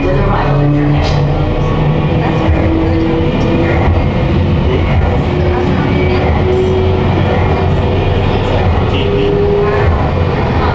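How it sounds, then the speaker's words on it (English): A simulated space elevator ride at EPCOT's Space 220 restaurant gives off a loud, steady low rumble and mechanical drone that holds without letup, with faint tonal hums drifting through it. "You're riding aboard the Mark V Stellarator, the latest in space elevator design and technology."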